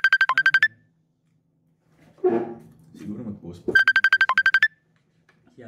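A phone ringtone plays two bursts of rapid repeated electronic tones, loud and close, with someone speaking briefly between the bursts.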